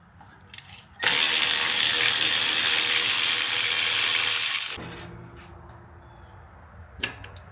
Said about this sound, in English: to loosen up your 9/16 nuts. That's the 4 that holds the axle in.